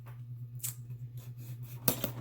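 Scissors cutting open a cardboard box of Prismacolor markers, a few quiet snips and a sharper cut near the end over a steady low hum, no talk.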